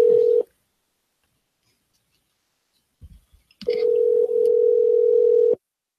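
A telephone ringback tone sounds during an outgoing call, a steady electronic tone heard in two bursts: one brief at the start and a longer one after a pause, with faint handling noise in between.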